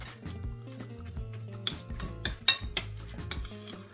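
A spoon stirs and scrapes around a bowl, with soft clinks and knocks of utensil against dish, close and fairly quiet.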